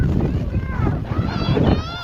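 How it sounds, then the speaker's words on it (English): Strong wind on a mountain buffets the microphone with a deep, gusty rumble, and a voice speaks over the roaring gusts. "It is so windy."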